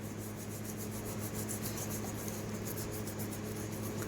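Fingers scrubbing lips with a homemade four-ingredient lip scrub, a steady close rubbing and rasping texture that runs continuously without pause.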